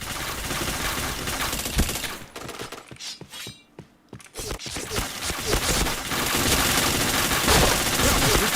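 Dense bursts of gunfire from a shooting video game, rapid overlapping shots and impacts that briefly thin out mid-clip before the firing resumes loudly and continuously.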